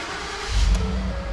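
A used Ford F150 pickup's engine catches and settles into a low, steady rumble from inside the cab, swelling about midway through the short moment and then holding an even idle.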